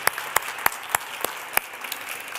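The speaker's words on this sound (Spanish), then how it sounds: "Les pido un gran aplauso para ellos" Applause at the Manka Tantay 2019 conference, many people clapping steadily, with several sharp, louder individual claps standing out close by in a loose rhythm.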